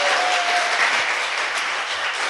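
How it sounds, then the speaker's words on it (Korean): Steady applause from a crowd at a political talk show recording, dense and continuous clapping that fills the whole stretch without any speech over it. "박수!"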